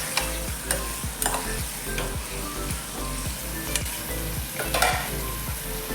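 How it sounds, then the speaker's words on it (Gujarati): Spiny gourd curry frying in a pan while being stirred, a loud close sizzle broken by repeated scraping stirring strokes, with no voices. "એ હવે અંદર એડ કરી દઈશું બરાબર સારી રીતે એને હલાવીને મિક્સ કરી દઈશું"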